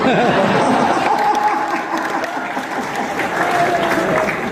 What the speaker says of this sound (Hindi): आखिरी पंक्ति पर मुझे तालियों से विदा करना